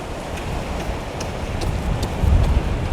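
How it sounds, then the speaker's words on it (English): Large waves break and roar at Haulover Inlet, a dense, continuous wash of surf that swells louder toward the end, with no voices. "you see how the waves are breaking all the way back there?"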